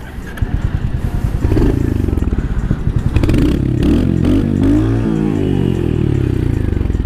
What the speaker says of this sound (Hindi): बाइक अभी स्टैंड पे है, स्टार्ट करने की कोशिश करते हैं।